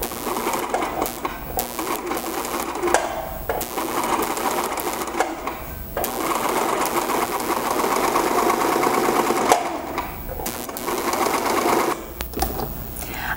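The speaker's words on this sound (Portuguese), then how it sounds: "dar uns dois pontos até minha próxima linha e virar novamente e continuar costurando." A sewing machine stitches with elastic thread, a steady close mechanical whirring and chattering that runs in stretches with brief pauses between them.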